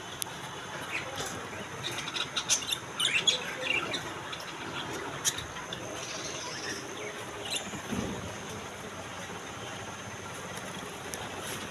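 Cockatiels and lovebirds in a bird shop, with scattered chirps and short calls over a quiet room hum and a few soft bumps.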